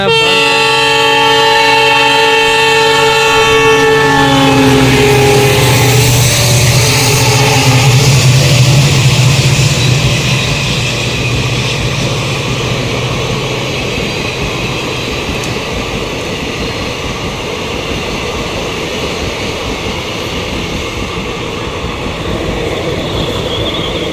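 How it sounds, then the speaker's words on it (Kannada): At a railway crossing, a loud train horn blares for several seconds, then the train rumbles steadily past nearby with a continuous clatter of wheels on the rails. "ಟ್ರೈನ್ ಬರಾಕತೈತಿ ಐತಿ ನೋಡ್ರಿ ಟ್ರೈನ್"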